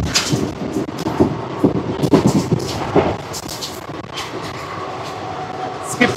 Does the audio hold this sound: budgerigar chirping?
no